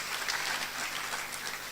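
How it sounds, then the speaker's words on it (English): Applause from an audience at a university alumni conversation event as certificate recipients take their seats, a steady, fairly soft wash of clapping lasting throughout without talk. "Let's clap for them as they take their seats."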